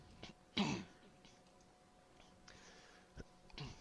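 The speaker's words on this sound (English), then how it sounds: "I keep on trying not to clear my throat." A single rough throat clearing near the mic, followed by quiet clicks and a softer second clearing near the end, in an otherwise quiet room.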